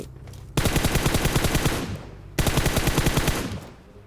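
Rapid automatic gunfire in the mobile battle-royale game PUBG Mobile, two loud sustained bursts of fast repeated shots, each fading out, with no voices over them.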